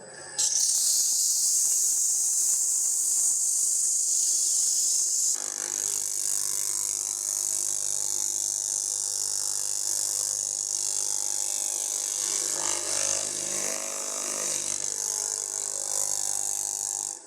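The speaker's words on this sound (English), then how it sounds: "we can sand this with 180, but you can see on this leading edge, in the direction it's turning, it's sanding a little heavier" 180-grit sandpaper pressed against a turned wooden spoon spinning on a lathe, a loud, steady hissing rasp over the motor's hum, lasting the whole stretch, close up and without speech.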